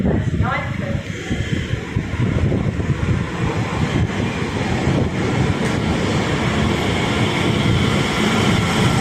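A nine-coach Elizabeth line train running between Slough and Farringdon, a steady loud rumble and rush with wind noise throughout, no voices.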